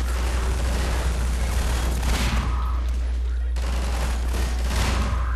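Gunfire in Half-Life 2 roars in continuous rapid bursts with booming impacts over a heavy low rumble, loud and close, with a voice talking over the battle.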